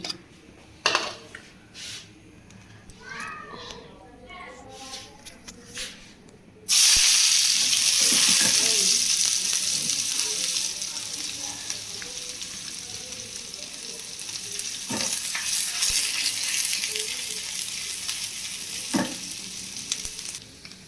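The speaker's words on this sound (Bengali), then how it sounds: "আমি এখন ভর্তার যে পেঁয়াজটা সেটাও ভেজে নেব।" Onions for a mashed-potato bhorta dropped into hot oil in a pan, bursting into a loud, close sizzle that settles into a steady fry with occasional stirring clinks, after quieter handling noises beforehand.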